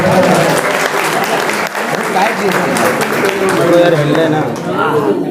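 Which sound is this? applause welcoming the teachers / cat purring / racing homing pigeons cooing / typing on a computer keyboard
applause welcoming the teachers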